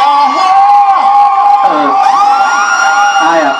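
A loud crowd of voices cheers and whoops continuously, with high rising and falling shouts that sound like excited children, over a dense hubbub that carries through the whole stretch.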